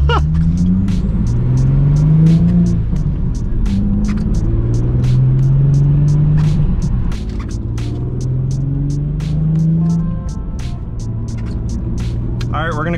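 Audi B5 S4 in a tunnel, revving repeatedly on two-step launch control, rising and falling engine sweeps with sharp pops and crackles, loud and echoing, with a voice speaking at times.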